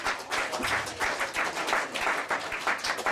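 Audience applause at a football club presentation night at a cricket club, with distinct individual claps in an uneven, pulsing rhythm from a modest crowd in a room.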